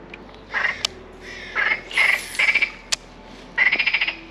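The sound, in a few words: frog croaking, with crows cawing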